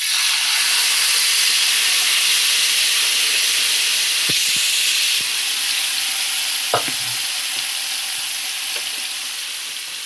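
Hot oil poured over tangy tamarind puliyodharai paste made with Kashmiri chillies sets off a loud, continuous sizzle and hiss that fades slowly. Two faint taps sound partway through.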